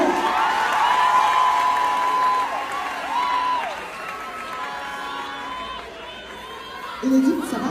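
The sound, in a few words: church congregation applauding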